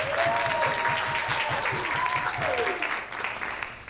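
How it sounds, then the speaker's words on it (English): Audience at a women's storytelling conference giving a steady round of applause, dense clapping that fades toward the end, with a brief voice over the top. "Give yourself a round of applause"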